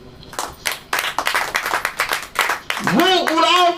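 A church congregation claps hands at a sermon, a run of uneven rhythmic claps for nearly three seconds, then a preacher's voice comes in loudly over the last stretch.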